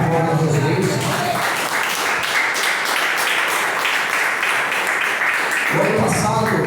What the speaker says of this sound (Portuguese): Que as suas palmas sejam para a glória de Jesus